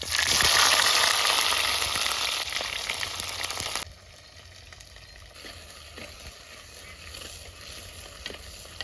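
Onion vadagam fries in a pan of hot oil for a fish curry, sizzling loudly up close at first and then settling into a softer, steady crackle.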